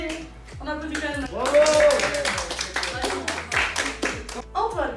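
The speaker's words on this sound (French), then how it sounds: "On applaudit quand même" A studio audience at a student quiz game show claps in a quick, uneven patter of hand claps, with voices calling out and chattering over it throughout.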